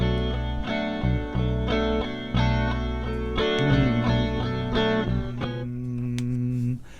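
Guitar run through a chord progression with effects, harmonic chords ringing out and changing every second or so, loud and close with no talking.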